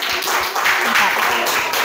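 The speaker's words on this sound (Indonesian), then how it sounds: "Beri tepuk tangan aplaus untuk kelompok Om" Brief applause from a classroom group for a team that has just presented, quick overlapping claps with voices talking over them, fairly loud and close.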